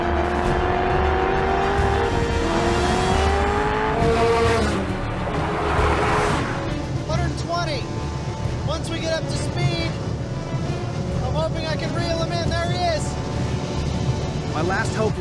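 A Chevrolet Corvette Z06 engine screams under hard acceleration at high speed, its rising pitch sweeping upward in loud passes mixed with wind and road roar, while voices talk over parts of it.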